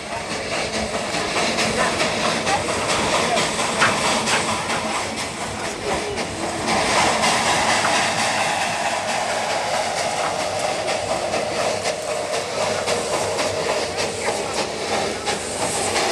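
Baby Sivok, a small former German Feldbahn steam locomotive with saddle tank, climbing on the Darjeeling Himalayan Railway toward Tindaria station, a loud continuous rumble of chuffing and rolling wheels with hissing steam, close and unbroken.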